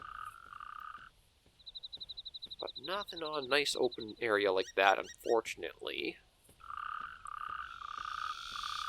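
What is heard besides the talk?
frogs croaking in the video game Carnivores 2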